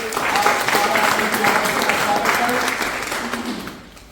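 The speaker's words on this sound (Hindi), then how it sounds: "एक बार तालियां बजा करके" Applause from an audience at a Kanshi Ram 92nd birth anniversary tribute gathering, a dense steady patter of clapping with a voice over it, fading away near the end.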